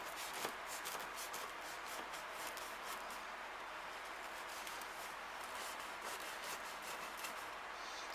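A knife saws through a cheese-crusted damper loaf with a continuous scraping, crackling rasp from the crisp crust. The sound is close and fairly quiet.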